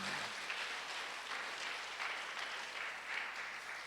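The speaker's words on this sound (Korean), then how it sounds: "우리 이신혜 전도사님, 예, 정말 가슴 아픈 사연들이 많이 들었는데 다시 한번 박수 한번 드립시다" Audience applause at a church gathering, an even, continuous patter of many hands clapping at moderate distance, steady throughout with slight swells and no voices above it.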